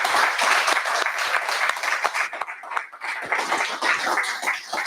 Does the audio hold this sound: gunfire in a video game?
no